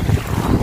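Strong wind gusts by the lake buffet the microphone, a loud, steady low rumble with no voices.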